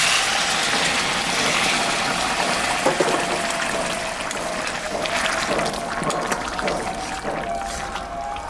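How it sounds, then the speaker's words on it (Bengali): Hot water is poured into a pan of jackfruit curry, a steady rushing splash that fills the whole stretch close up, easing a little toward the end, with no talk. "গরম জলটা আমি দিয়ে দিই"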